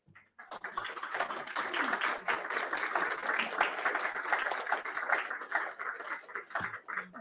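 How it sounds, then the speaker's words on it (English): A church congregation stands and applauds, dense, steady clapping filling the room for several seconds at moderate loudness, with a few scattered voices in the mix. "let's stand up and give them a round of applause"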